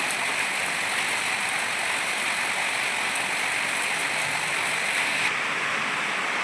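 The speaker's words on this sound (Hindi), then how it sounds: "तो उधर बारिश हो रही है" Steady, dense hiss of early-morning rain falling in a village, continuous and fairly loud throughout with no voices, like a heavy downpour close by.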